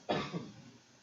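One short cough close to the microphone, a single harsh burst that fades quickly, with no talking.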